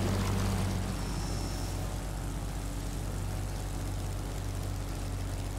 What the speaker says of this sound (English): let's go, my jet powered Soviet beauty